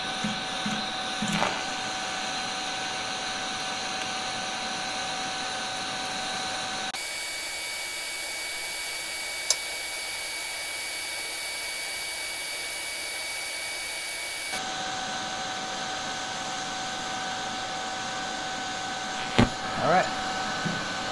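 A Titanium Vulcan TIG welder holds a steady arc, giving a continuous electrical buzz and hiss. The hiss shifts to a smoother, brighter tone midway through, and a few faint clicks and knocks sound at the start and near the end.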